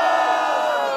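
A rap battle audience in Cuiabá whoops and cheers for MC Django, a loud, sustained wall of shouting voices lasting about a second.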